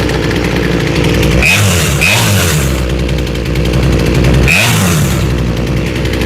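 A chainsaw's small two-stroke engine runs steadily at a low idle, loud and close, with a couple of brief throttle blips breaking the even drone.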